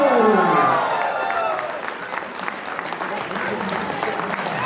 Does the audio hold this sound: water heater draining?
no